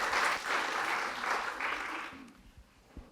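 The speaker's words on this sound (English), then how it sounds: "So if you want to applaud again," An audience at a board of psychology meeting applauds, a dense burst of clapping that fades out after about two seconds, leaving a few faint knocks and room quiet.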